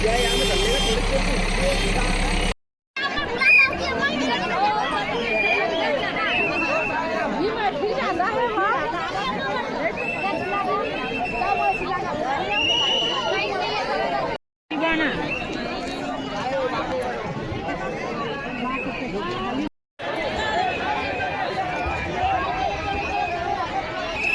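A huge crowd of Kabirpanthi pilgrims gathers at the food bhandara during the chadar tilak ceremony in Damakheda. Loud, continuous babble of many voices mixes with idling vehicle engines, broken by a few brief silent cuts.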